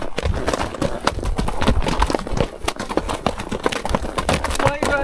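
Mule hooves clop on slick, crumbly desert rock in quick, uneven steps, loud and close, with scraping and shuffling between the strikes.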